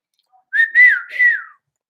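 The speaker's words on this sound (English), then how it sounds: "Cox gave Jones the whistle code," A three-note whistle code, a brief human whistle rising and falling over about a second, clear and alone in quiet surroundings.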